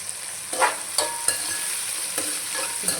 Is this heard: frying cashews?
yes